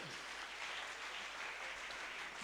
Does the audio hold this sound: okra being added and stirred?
no